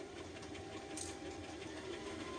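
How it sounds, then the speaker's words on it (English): A sewing machine runs a basting stitch on a dress, a soft, quick mechanical hum with faint repetitive needle ticks, quiet and steady, with a brief brighter click near the middle. "I'm just running a basting stitch on this."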